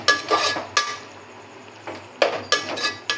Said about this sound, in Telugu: గరిటెతో కలుపుకుంటూ ఉండాలండి.